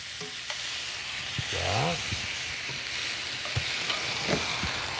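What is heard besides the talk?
steak and ginger sizzling in a stir fry pan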